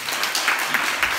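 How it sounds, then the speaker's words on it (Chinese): Brief burst of applause from a school audience at an elementary school talk in Hualien, a steady patter of many hands clapping at moderate volume for just over a second. "这时候会有点掌声"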